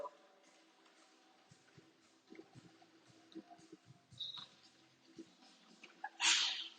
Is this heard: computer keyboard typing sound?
no